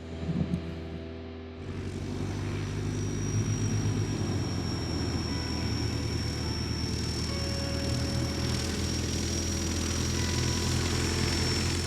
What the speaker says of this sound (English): The plane can land here.